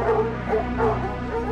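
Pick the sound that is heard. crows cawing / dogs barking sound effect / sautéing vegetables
dogs barking sound effect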